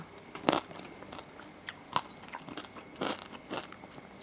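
Crunchy crispy pork eaten with spicy papaya salad gives several close, sharp crunching bites, then quieter chewing crackles between them.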